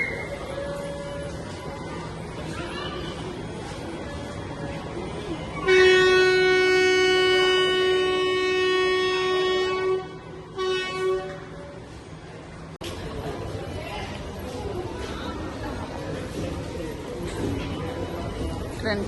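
A departing train sounds a long, loud horn blast lasting several seconds, then rumbles on over track noise, with people's voices murmuring in the background.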